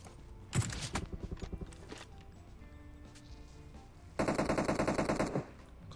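Bursts of automatic gunfire in PUBG Mobile, one fast rattling volley early on and a second loud, dense burst near the end, with scattered single shots and game sounds between them.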